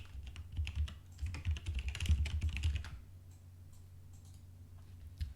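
Someone types on a computer keyboard while writing Java code in IntelliJ: a quick burst of close keystrokes for about three seconds, then a quiet room.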